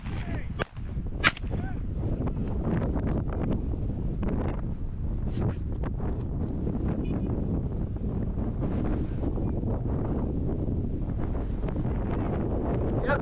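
Strong wind buffets the microphone continuously in an open field during a pheasant hunt, a loud rumbling roar with sharp gusting thumps, close and steady throughout.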